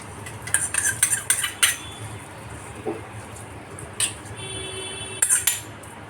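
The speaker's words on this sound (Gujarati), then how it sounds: "હવે હું વઘાર આમાં નાખી દઈશ" Sesame seed tempering is poured and stirred into dhokla batter for malai khaman dhokla. A series of sharp metallic spoon clinks and scrapes comes in short bursts, close and moderately loud, with quiet gaps between them.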